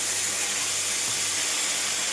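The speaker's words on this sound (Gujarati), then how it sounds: "થોડું પાણી એડ કરી દઈશું પહેલાં" Water poured into a sesame and red chilli tempering, producing a continuous close hiss and rush that fills the whole short moment without pause.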